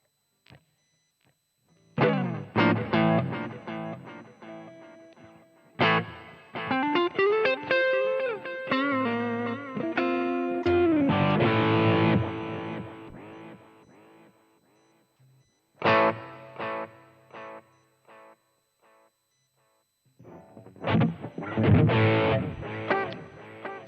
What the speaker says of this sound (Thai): จะเป็นเสียงแตกแบบแตกอ่อนๆแตกน้อยๆนะครับ